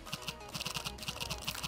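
Quick, faint tapping from typing on the touchscreen keyboard of a OnePlus 3/3T smartphone running OxygenOS 5.0, with about a dozen soft, evenly spaced key clicks.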